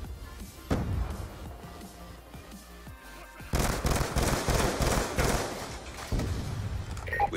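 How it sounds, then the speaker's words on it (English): A Hellstorm missile strike in a Call of Duty game: an early heavy thump, then a cluster of loud rapid explosions and crackling blasts, with game sounds around them. "Hellstorm missile inbound."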